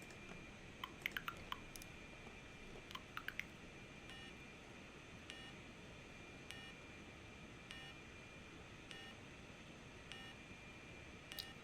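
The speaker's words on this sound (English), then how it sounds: "then it's going to beep, and then it's going to wait for a second for the next one" A LEGO SPIKE hub gives a series of short electronic beeps, faint and spaced apart with pauses between them against a quiet background.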